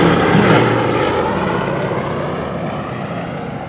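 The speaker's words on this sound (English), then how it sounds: "Another beautiful low pass from the B-17." A B-17 bomber makes a low pass at an air show, its propeller engines roaring loud and close at first, then fading gradually as it moves away, with no talk.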